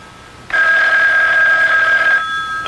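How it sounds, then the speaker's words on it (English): A telephone bell rings in a Park Avenue apartment early in the morning, one long loud continuous ring lasting well over a second, starting abruptly and cutting off, with a faint electronic hum around it. "Kitty, the phone's on your side"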